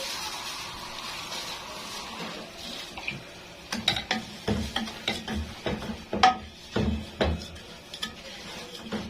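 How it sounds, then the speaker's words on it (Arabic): A kilo of sugar being stirred in a very hot pot, with scraping, knocking strokes of the spoon against the pot's sides in an uneven rhythm, close and clear, after a quieter stretch of faint sizzling. "هنا عشان الحله سخنه جدا معايا، فايه لازم اقلب جو كيلو سكر"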